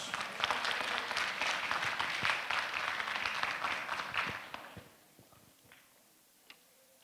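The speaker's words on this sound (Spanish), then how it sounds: "La recibimos con fuertes aplausos." Applause from the audience at an anniversary ceremony for a university tourism school, a full burst of clapping that tapers off into a few scattered claps.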